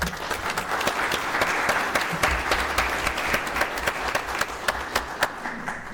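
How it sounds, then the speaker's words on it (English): People at a city council meeting give a round of applause for a long-running Murfreesboro business, a moderately sized room of clapping with distinct sharp claps standing out over the steady patter. "So let's give them a round of applause."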